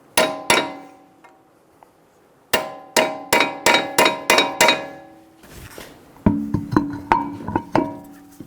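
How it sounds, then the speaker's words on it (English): Sharp metallic hammer strikes ring out on a punch staking the front axle nut of a 2007-2011 Toyota Camry: two blows, a pause, then a quick series of rapid taps followed by duller, heavier hits. "Using a hammer and a punch, stake the axle nut."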